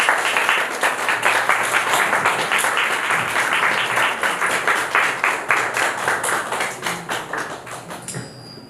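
An audience claps during a Sunday church service, steady rhythmic applause that holds for several seconds and eases slightly toward the end.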